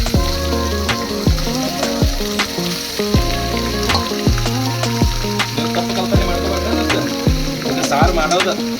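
Garlic tempering sizzles in oil for home-made chicken curry, a continuous close frying hiss with frequent rhythmic clanks of a ladle stirring against the pot throughout.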